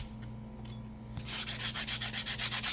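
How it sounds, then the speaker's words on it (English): Sandpaper scuffs the end of a copper plumbing pipe in quick, even back-and-forth strokes, a close rhythmic rasping that starts after a quiet moment and repeats about a dozen times with no talking. "we're just going to rough up the edges here until we see shiny"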